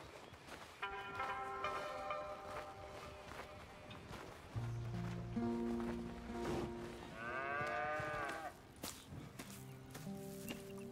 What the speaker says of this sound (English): Here's the cows.